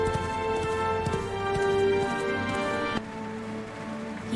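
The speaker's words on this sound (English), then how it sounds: "He rode his horse across the countryside." Horse hooves clip-clop in a brisk, even rhythm as a horse is ridden across the countryside, close and clear, tapering slightly toward the end.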